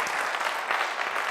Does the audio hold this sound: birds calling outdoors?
no